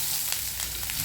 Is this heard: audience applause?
no